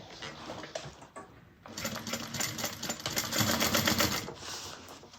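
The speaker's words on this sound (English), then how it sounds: "we're gonna sew the side side panel to the main exterior" Sewing machine stitching a bag's side panel to its main exterior with a 3/4 inch seam allowance, a fast rattling run that starts after a short pause and carries on to the end, fairly quiet.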